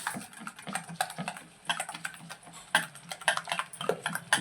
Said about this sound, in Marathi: आता आपल्याला हे असं छान फेटून घ्यायचं